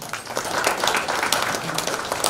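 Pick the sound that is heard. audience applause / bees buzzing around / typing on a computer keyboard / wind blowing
audience applause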